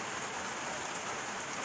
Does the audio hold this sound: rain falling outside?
yes